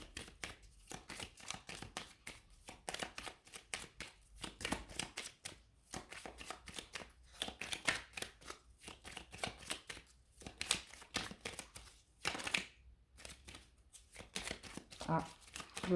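Tarot cards being shuffled during a card reading, giving a steady run of quick papery riffles and flicks close to the microphone, with brief pauses between bursts.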